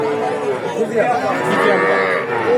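Cattle at the Aron Khola livestock market low repeatedly with drawn-out, overlapping moos, loud and close, over a steady din of crowd chatter from the busy animal market.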